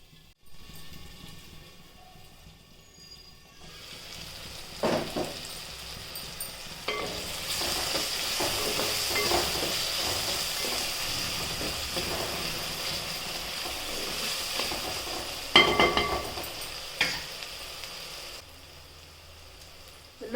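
Ground garlic and green chili sizzling steadily in hot oil in a pan while being stirred, a continuous frying hiss with occasional scraping clicks.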